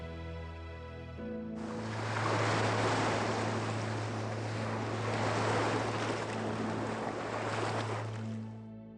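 A steady rush of crashing waves and pattering rain swells in after a low hum, holding at a loud, continuous roar before easing slightly.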